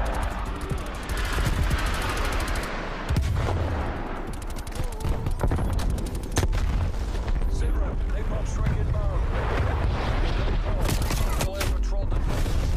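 Continuous gunfire from an AK-47 in Call of Duty: Cold War multiplayer, loud rapid bursts and single shots layered over game noise, with a voice talking throughout.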